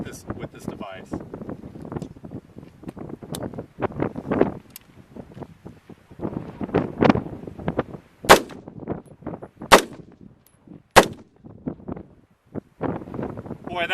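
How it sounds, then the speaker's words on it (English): Rifle fitted with a HERA ARMS linear compensator firing during a live-fire demo outdoors, several sharp reports spaced a second or two apart amid wind noise and someone talking. "let's get to the live fire demo"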